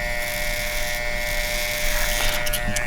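A barber's electric trimmer buzzes steadily and close by while marking a man's sideburns ahead of a hot towel face shave, a constant high whine with a slight rise in intensity near the end.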